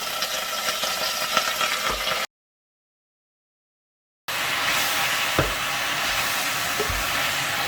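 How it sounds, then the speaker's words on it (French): Spinach frying with a garlic clove in olive oil in a pan, a continuous crackling sizzle with a few soft knocks, cut by about two seconds of total silence midway before resuming. "Donc, je mets un peu de l'huile d'olive et une gousse d'ail pour le parfumer. Maintenant, je mets les épinards."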